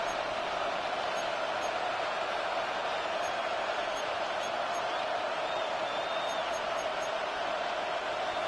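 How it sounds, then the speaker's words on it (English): Stadium crowd noise from a Madden 26 football game swells into a steady, dense roar of cheering on third and long, sustained and even throughout with no pauses. "This crowd turning up the decibel level"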